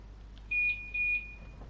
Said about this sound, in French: Ah, petite sonnerie.